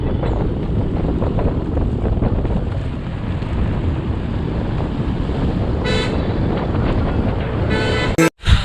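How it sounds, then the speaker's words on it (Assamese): Strong cold wind at Mayodia roars steadily into the microphone, a constant loud buffeting rush, with brief tonal toots near the end and a sudden gust dropout. "বহুত ঠাণ্ডা বতাহ মাৰি আছে"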